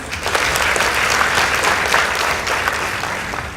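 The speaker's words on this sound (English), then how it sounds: "Please give them a warm round of applause." A school debate audience gives a warm round of applause for the Mpesa Foundation Academy team, loud dense clapping that holds steady throughout.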